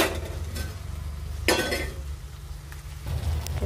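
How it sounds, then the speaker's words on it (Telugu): Ripe mango pieces and onions being cooked in hot oil in a pan, with soft stirring and a faint sizzle under steady background noise, broken by a couple of brief louder scrapes or clinks. "ఈ మామిడి పళ్ళు ఒక 2 నిమిషాలు మళ్ళీ ఆయిల్లో మగ్గించుకుందామండి."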